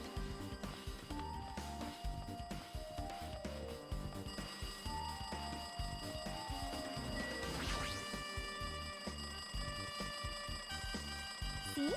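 A telephone rings insistently in a video game escape room, with a steady electronic trill layered over busy game noise and a brief crash midway, sustained for the full stretch.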